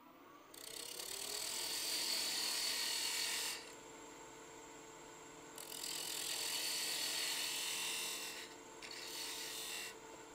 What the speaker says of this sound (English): I'm going to use a beading and parting tool to just take that down.